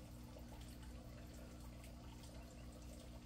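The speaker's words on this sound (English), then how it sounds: "the sound of running water. That's aquaponics." Steady low rush of running water circulating through an aquaponics system outdoors at night, faint and continuous with no voices.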